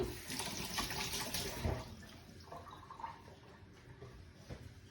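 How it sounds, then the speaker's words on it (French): Tap water runs into a kitchen sink as fingers are rinsed, a soft steady splashing flow that fades slightly toward the end, quiet and close with no talking. "on rince un petit coup les doigts."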